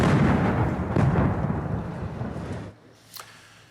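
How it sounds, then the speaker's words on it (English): Stun grenades explode among protesters, with a heavy, rumbling blast that rolls on for a couple of seconds, then cuts off before a sharper, fainter crack follows in the distance. "running as what appeared to be stun grenades landed around them. Loud bangs could be heard"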